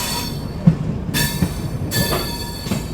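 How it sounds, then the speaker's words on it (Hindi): A train on the Delhi–Kanpur railway line rumbles past with rhythmic wheel clatter and periodic louder thumps at rail joints, steady and fairly close. "देखो वहाँ से दिल्ली लाइन से भी कोई ट्रेन भी आ रही है, दिल्ली कानपुर वाली लाइन पे"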